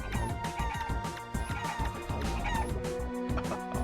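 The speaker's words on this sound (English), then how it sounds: "Shoot the evil chickens!" Chickens squawk and cluck amid dense, busy game sounds and music in the online shooter Realm of the Mad God, with steady bright chirps and clatter throughout.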